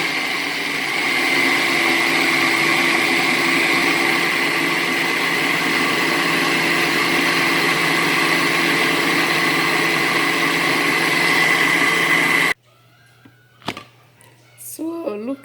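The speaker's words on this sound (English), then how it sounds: "I'm going to blend it again." A loud, steady blender whirrs continuously for about twelve seconds, pureeing cocoyam, then cuts off abruptly, leaving quiet kitchen clatter and a brief voice.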